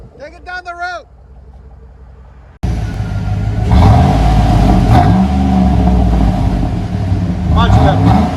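A Chevy Tahoe with a 5.3L V8 drives down the road, its exhaust a loud, deep, steady rumble that swells as it accelerates. A brief voice speaks just before the engine cuts in.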